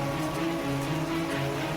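Heavy rain pours down in Dwarka, Gujarat, a dense, even hiss of rain on surfaces with a low steady hum beneath it, close and continuous.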